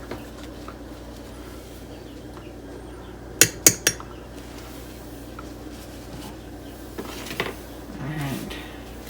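Glass canning jars with rings are set into a Presto electric canner during raw-pack chicken canning, giving three quick, sharp clinks in a row and then a couple of fainter knocks over a quiet room hum.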